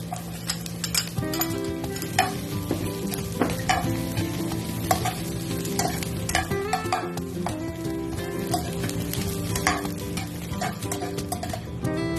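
Onion and garlic sauté in a pan for sarsiadong dalagang bukid, a steady close sizzle with frequent scraping and tapping of a stirring utensil against the pan and faint background music.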